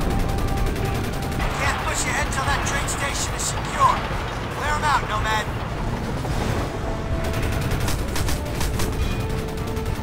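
Rapid machine gun bursts in the video game Crysis crackle repeatedly over a low rumbling background while a person talks throughout.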